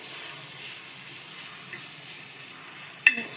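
Leftover chicken sizzles gently in a pan as it is stirred and fried into filling for a Kolkata-style chicken roti roll, a quiet steady frying hiss with a single sharp clink of a utensil near the end.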